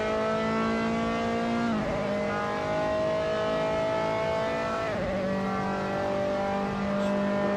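A Dallara F317 race car engine screams in a sim racing event at the Greifswald city circuit, a loud sustained high-revving whine with two quick downshift dips as the car brakes and then climbs again, dominating throughout.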